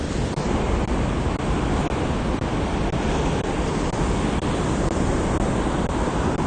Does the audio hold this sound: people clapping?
no